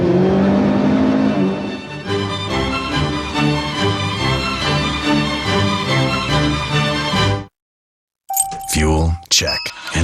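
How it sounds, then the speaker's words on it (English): Ford Escort rally car speeding back to Nairobi on an African rally: loud engine drone with shifting pitch and gear changes, ending abruptly, followed after a short silence by a burst of other loud sounds. "His Escort speeds back to Nairobi after what must rank as the finest drive of his career."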